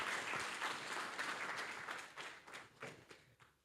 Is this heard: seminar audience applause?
yes